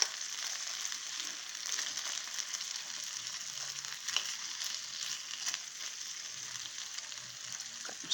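Zucchini sizzles and fries in a pan, a steady bright crackle with occasional small pops, left alone to cook with no talking.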